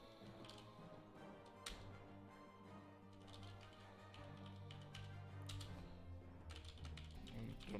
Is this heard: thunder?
no